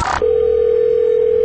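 A telephone line gives a short burst of dialing, then a loud, steady dial tone that holds unbroken for over a second.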